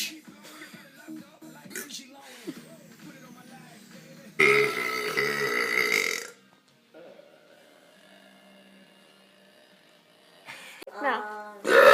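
Loud belching at home, a few burps with broadband bursts, the strongest around the middle and another near the end, alternating with quieter stretches of talk and room noise.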